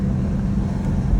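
A Porsche car being driven on the road after a MOMO steering wheel install, a steady low engine and road rumble from inside the cabin.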